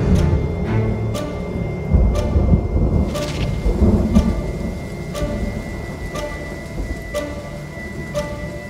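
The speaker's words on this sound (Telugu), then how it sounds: "వర్షం తగ్గలేదే." Heavy rain pours steadily during a nighttime movie scene, broken by repeated sharp cracks and rumbles of nearby thunder, with no talking.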